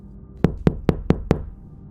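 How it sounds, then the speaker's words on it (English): Five sharp knocks on a front door, evenly spaced and close, each a hard dull thud against quiet, with nothing else around them. "Then came 3 knocks against the front door."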